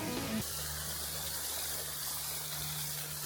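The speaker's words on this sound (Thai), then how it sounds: "ตอนนี้เราอยู่ จุดสูงสุดของน้ำตกตะโยกน้อยนะครับ" Water rushes at the top of Tayok Noi waterfall in Kanchanaburi, heard as a soft, even hiss that continues after a brief different sound at the very start.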